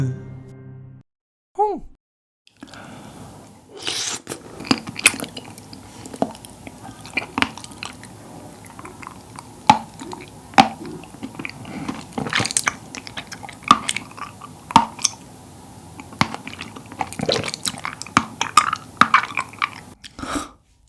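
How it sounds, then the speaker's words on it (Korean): Popping boba balls filled with strawberry-flavoured fruit syrup being chewed in a close-up eating session, with repeated wet, squishy chewing and sharp little pops and clicks spread through the mouthful. "한 입 가득 입에 넣고 톡톡 터뜨리는 게 너무 힘들어서 그냥 삼켜버렸네"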